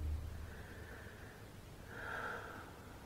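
Steady breaths drawn in through the nose while lying with the legs stretched up against a wall in a calm exercise session; two drawn-out, soft inhalations sound close and airy, with no talking.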